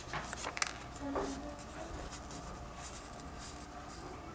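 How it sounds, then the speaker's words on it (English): A piece of origami paper being rolled up for a sail flag, giving faint close crinkles, rustles and scratchy paper friction in short bursts, with no talking. "Roll this piece of paper."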